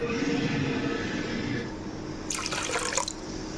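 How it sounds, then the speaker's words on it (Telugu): Cool water is poured into tamarind for tomato rasam, a continuous close pouring and dripping sound that softens midway, with a brief brighter splash near the end and no talk. "ఇది కొంచెం ఇందులో వాటర్ పోసుకొని పిసుకుందామండి చేతితోటి"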